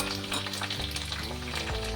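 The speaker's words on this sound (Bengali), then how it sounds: "আলুটা একটু সামান্য ভাজা ভাজা হয়েছে হালকা" Potato pieces fry in oil in a pan, a steady close sizzle with light stirring scrapes, while drawn-out tonal hums from something nearby run underneath.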